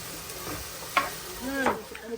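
Okra fries in a pan with a steady soft sizzle and a few scraping stir sounds, close by, with no voices.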